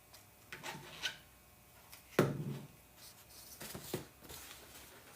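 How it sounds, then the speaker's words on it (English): Glue is rubbed onto a balloon by hand in a quiet room, making soft, sporadic rubbing and squeaky scuffing sounds with one sharper crinkle, close and fairly faint. "where I rub the glue onto the next balloon"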